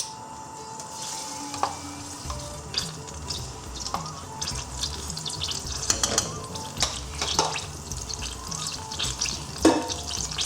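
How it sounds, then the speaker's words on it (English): Garlic and ginger paste fries in two or three tablespoons of hot oil, the base for a restaurant-style mirchi chicken bhuna: a steady, close sizzle with occasional clinks and scrapes of stirring, no talking. "Cook the garlic and ginger paste. Remember not to burn this."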